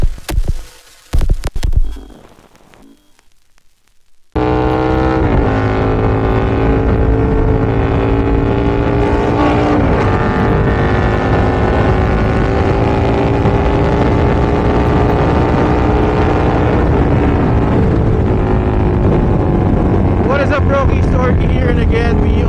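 A big-bike motorcycle exhaust droning loud and steady while riding, with wind buffeting the mic, after a few seconds of brief talk and handling noise.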